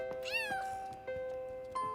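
A cartoon kitten gives a clear, close meow that rises and falls, followed by a couple of shorter mews, over faint steady background tones.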